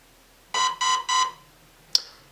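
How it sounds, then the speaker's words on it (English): A Gate Titan electronic unit in an airsoft gearbox gives three evenly spaced electronic beeps when a LiPo battery is connected, followed by a brief sharp click, loud and close with no talk. "the gate tighten is going to make 3 beeping noises followed by some vibration in the gearbox"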